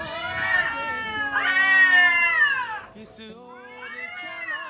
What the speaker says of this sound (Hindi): मुझे पता था ये साउंड बिल्लियों का है